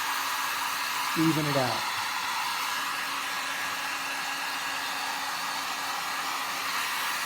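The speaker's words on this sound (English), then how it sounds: "And then I just take the heat gun and" A heat gun blows a steady broadband rush of hot air onto waxed canvas to melt and even out the wax, running continuously at close range with a brief voice over it near the start.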